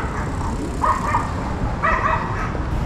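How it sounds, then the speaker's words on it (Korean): Dogs on a narrow shopping street in Kameido, Tokyo, bark and yip in two short sharp bursts, moderately close, over steady street background noise. "호전적인 강아지들이 많이."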